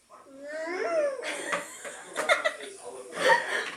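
A young child imitates a cat's meow with a drawn-out, rising and falling vocal cry, followed by chuckling and giggling laughter nearby.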